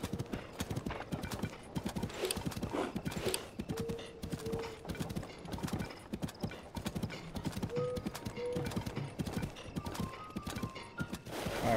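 A horse gallops in The Legend of Zelda: Tears of the Kingdom, its hooves beating a fast, steady clip-clop rhythm up close, with a few brief neighs and whinnies over the top.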